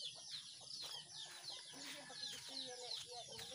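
Chickens cluck and squawk in a short, busy run of calls with no pauses between them, quiet and a little distant. The flock is kept by a small farm seller, and there is faint room noise behind the birds.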